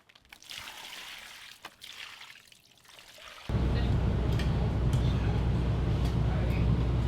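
Water trickles and splashes in bursts over feet on a boat deck, then a steady loud pour of running water takes over for the rest, with no talking.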